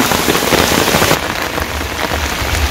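Heavy rain pours steadily onto surfaces in a Bangladeshi village during the rainy season, a dense unbroken wash that eases slightly partway through, with no voices.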